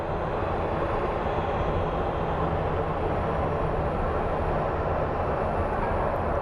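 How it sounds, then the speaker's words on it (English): A small Embraer jet taking off at Phoenix Sky Harbor International Airport, heard as a steady, broad, loud engine roar that holds constant throughout without speech. "And then we have the little Embraer coming in,"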